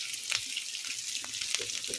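Small chopped coconut pieces fry in hot coconut oil, giving a steady, bright sizzle with scattered small pops and crackles throughout, close up and without talk.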